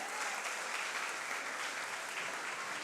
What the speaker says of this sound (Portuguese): Vamos aplaudir a Deus por isso.